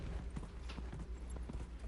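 A horse's hooves clip-clop in a steady trotting rhythm in the video game Dragon Age Inquisition, a short run of close, moderately loud hoofbeats without talk.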